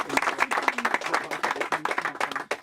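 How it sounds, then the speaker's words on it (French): An audience at a Miss France event in Lille breaks into uneven, choppy clapping close by, with voices mixed through it. "C'est génial, on peut vous applaudir."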